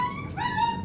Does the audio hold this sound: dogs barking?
yes